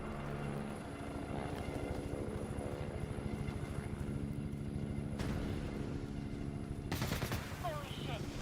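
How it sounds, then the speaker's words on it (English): Anti-air missile strike in The Division, a heavy rumbling roar layered with rapid mechanical rattling, ending in a sharp loud burst near the end, with voices talking underneath. "The missile came from the east side of the building."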